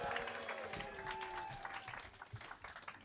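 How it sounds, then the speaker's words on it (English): A comedy club audience claps in a brief, steady patter of applause, with crowd noise and a thin background tone underneath that trails off toward the end. "Go on, round of applause for Danny."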